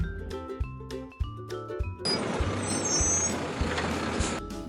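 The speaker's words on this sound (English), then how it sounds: "The garbage truck with a clank and a clunk carries away the junk." A city garbage truck with air brakes hisses and rumbles, clanking and clunking as it works, loud and close with heavy broadband noise after an earlier stretch of tonal engine and beeping sounds.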